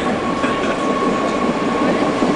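A Berlin metro train runs with a loud, steady rumble and rattle of wheels on rails, heard from inside the carriage, with a faint electric whine throughout.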